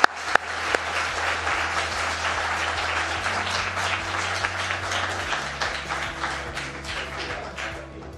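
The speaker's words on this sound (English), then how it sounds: "Please come on down, and you're allowed to applaud." An audience at an award ceremony claps steadily and warmly, a dense sustained round of applause at moderate distance, with a low hum running underneath and no talking over it.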